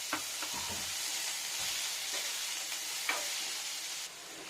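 Chopped onions fry in oil for a jackfruit curry, with a constant sizzling hiss punctuated by a few scraping stirs of a spoon in the pan.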